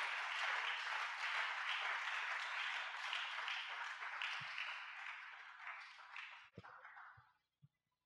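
A church congregation at a Sunday thanksgiving service breaks into sustained applause, a dense wash of clapping that tapers off after several seconds into a few scattered final claps.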